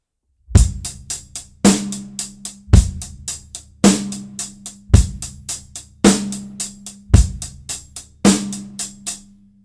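Drum groove with hi-hat played in sixteenth notes, four quick even strokes per beat, with a heavier kick-and-cymbal accent starting each group, repeating steadily and up close throughout, no talking.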